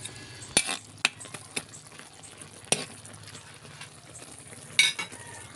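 A spoon stirs kangkong simmering in coconut milk with ginger and lemongrass in a pan, giving a soft continuous sizzle broken by several sharp clinks of utensil against the pan, with no talking.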